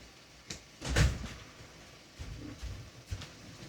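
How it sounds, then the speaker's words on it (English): A door opened one-handed in a home kitchen: a sharp click, then a louder thump and rattle about a second in, followed by a few softer knocks and bumps close by. "That was hard to open that door with one hand."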